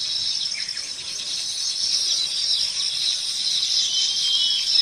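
Birds and insects chirp among palm trees in open village fields. A dense, continuous chorus of shrill cricket-like trilling carries throughout, with occasional faint bird chirps mixed in.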